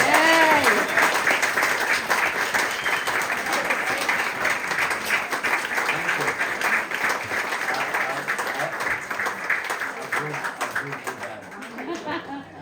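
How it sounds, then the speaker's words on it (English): An audience applauds at a conversation event with a chef: dense, sustained clapping for about twelve seconds, with some voices and chuckles mixed in, tapering off at the end. "So how about a big round of applause?"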